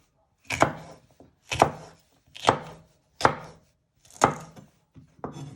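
A knife finely slices vegetables on a chopping board while beef in black bean sauce is being prepared, giving six crisp, evenly spaced chops at close range with no voices.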